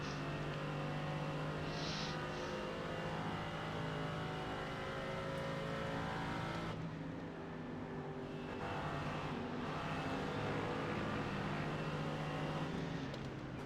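Onboard engine of a Mercedes GT4 race car on a lap of a GT4 race, a steady, droning roar with brief lifts and shifts as revs change, constant and close.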